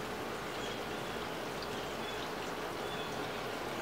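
Steady rain falls outdoors on a warm, humid day, a continuous even hiss of drops with no distinct splashes or voices standing out.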